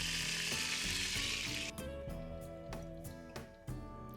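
Onions, carrots and celery sizzle in rendered pork fat in a pot for a sugo, a bright frying hiss at first that drops away as a utensil scrapes and clinks in several distinct knocks.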